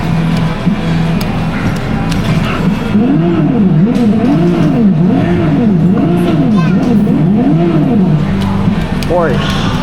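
A Porsche revs and drives past, its engine note swelling and falling in repeated waves, loud and close over steady road noise, with a brief squeal-like rise near the end.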